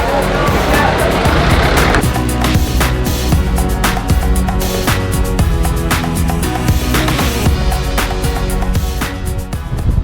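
A Jeep Willys carries passengers riding on the back over a rough road in Colombia's Valle de Cocora, its engine roaring loud and constant with jolting rattles and wind throughout, and voices partly heard over the noise.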